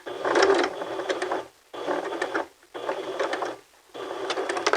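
Sewing machine stitching fabric to the end of a fold, four bursts of rapid, steady mechanical whirring, close and clear, separated by short pauses.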